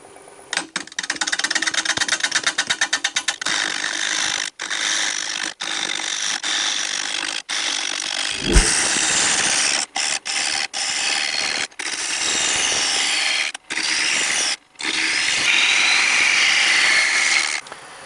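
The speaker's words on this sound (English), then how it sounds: "That's about 500 RPM. Going to be using my 5/8 inch bowl gouge here." A bowl blank on a wood lathe spinning at about 500 RPM, cut with a 5/8 inch bowl gouge: a loud, steady scraping and hissing drone that runs throughout, broken by short pauses as the tool lifts away.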